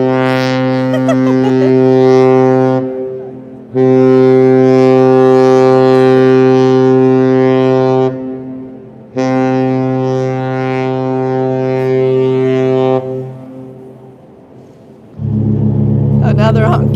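Deep ship horns at the port of Kusadasi, Turkey, including the cruise ship Celebrity Silhouette, blast in long sustained notes with short gaps between them. A lower, louder horn joins near the end, and voices talk faintly underneath.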